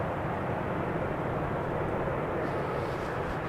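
A six-year-old SAS CRJ regional airliner turning onto the runway 36L threshold at Amsterdam Schiphol, its engines giving a steady, fairly loud broadband roar that holds even throughout, heard alone with no talk.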